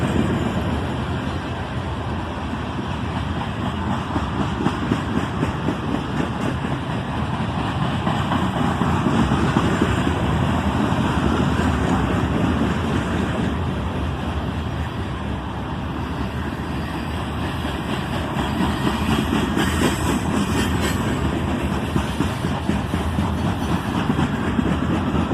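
CSX and Norfolk Southern freight train pulled by three locomotives getting up to speed: a continuous loud, broad rumble and roar with a steady rattle of rolling cars, holding at the same level throughout, no talk.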